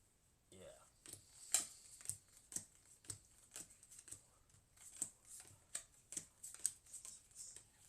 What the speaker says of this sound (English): each player's dealt 9 space cards total